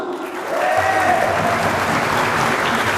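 A congregation breaks into applause for God during an Indonesian church sermon, loud, dense clapping that swells in after a brief moment and continues steadily, with a faint voice beneath.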